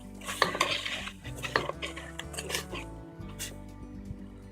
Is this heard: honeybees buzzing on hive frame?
no